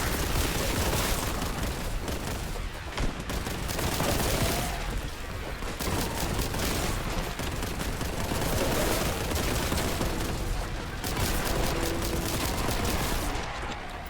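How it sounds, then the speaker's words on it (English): Dense, nonstop gunfire and explosive blasts from the retro shooter Warhammer 40,000: Boltgun, a loud continuous barrage with no pauses. "everything is shooting at me"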